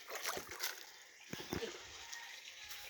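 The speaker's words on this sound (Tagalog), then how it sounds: "Magbisbis na. Para makainom ang balanghoy o tubig." Water is splashed and poured onto cassava plants outdoors, coming as short soft splashes in a few bursts over a low background hiss.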